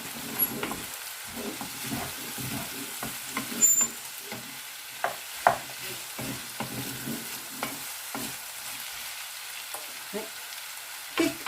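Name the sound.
frying onions and tomatoes in a pan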